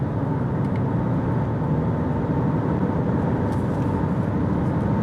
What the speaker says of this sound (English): Okay, so we're going now on a fairly smooth road. Go ahead and set the cruise control.